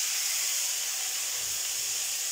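Tomato slices dropped into a hot pan of sautéed onions give a steady, close sizzling hiss, even and unbroken throughout with no talking.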